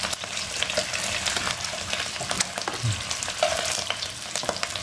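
Chicken pieces fry in hot oil in a home kitchen for a puchero, a dense, steady sizzle and crackle with small pops and stirring scrapes, close and continuous, with no talking.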